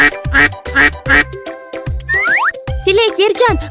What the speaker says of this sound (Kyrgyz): Бул деген өрдүк жана каз.